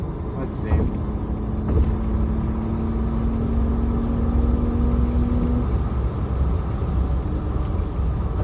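A BMW E36 with a Remus exhaust drives on the road, giving a steady engine drone with a slowly rising tone over continuous road and wind noise.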